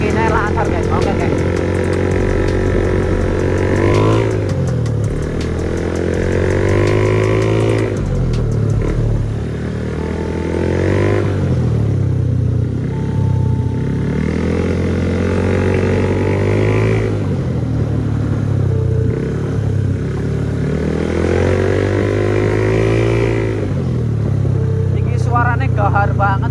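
A tuned motorcycle engine revs loud and close, its harsh throaty note rising and falling in repeated surges for the whole stretch, with people talking over it at times.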